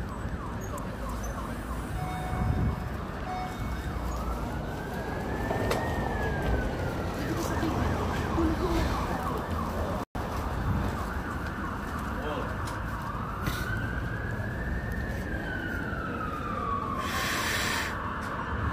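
An ambulance siren sweeps up and down twice over steady traffic noise on a San Francisco street on a Saturday evening, each wail rising and falling at moderate distance.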